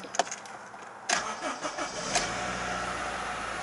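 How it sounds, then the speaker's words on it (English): A 2004 Honda CR-V 2.0 i-VTEC SE Sport with about 125,700 miles cranks briefly and fires up, then settles into a steady, moderately loud idle, heard from inside the cabin with no talking. "start the engine."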